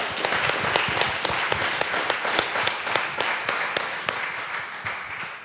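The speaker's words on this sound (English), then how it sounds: "I really do just want to give a beautiful round of applause" An audience applauds panelists at a talk on mental health and homelessness, a steady wash of clapping with a few sharper claps standing out, moderately quiet and continuous throughout.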